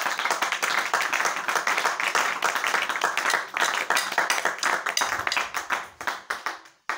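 A church congregation claps during a Sunday service, many hands beating in a quick, fairly rhythmic pattern that holds steady, then thins into separate claps and fades out near the end.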